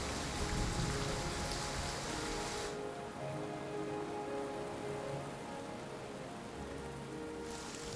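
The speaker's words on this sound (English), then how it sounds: "When it is cold and raining on the mountain slope" Steady rain patters densely on a cold Himalayan mountain slope, a broad hiss that softens slightly partway through and then swells again near the end.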